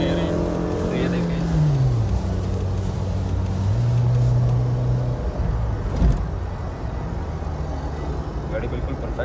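A 2009 Toyota Fortuner's engine runs on a test drive with a steady low drone, its pitch rising and settling as revs change, while a voice talks over it.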